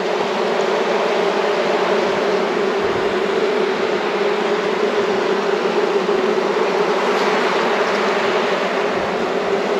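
Honeybees hum loudly and steadily at an open hive where a new swarm is being checked and supers added, a dense unbroken buzz close by with no voices.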